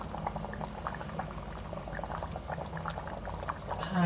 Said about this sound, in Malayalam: ഇത് കഴിഞ്ഞ് തിളച്ചിട്ടുണ്ട്.